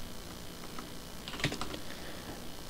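Typing on a computer keyboard, a run of soft, close key clicks with one slightly sharper tap, over a steady background hum.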